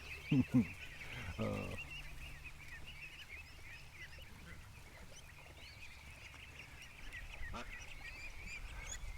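Ducks honk and quack close by in a couple of sharp bursts near the start, then fall to a quiet outdoor hum with a few softer calls later on.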